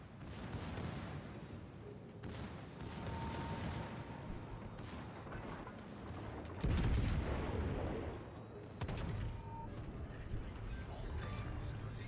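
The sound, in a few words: gunfire from many players shooting in a video game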